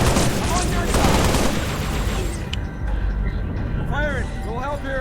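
Video game gunfire from Halo Reach, a dense burst of rapid shots in the first seconds with booming impacts, then thinning out under game voices and electronic chirps.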